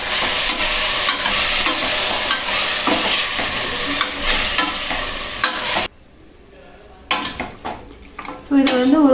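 Mutton stirred and sautéed in a pan for village-style gravy, loud close sizzling with scraping spoon strokes against the metal, a brief pause, then stirring and frying resume.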